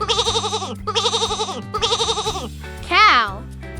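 Three loud, wavering sheep bleats follow one another in quick succession, then a short, higher rising call ends the sequence, all over a soft musical backing.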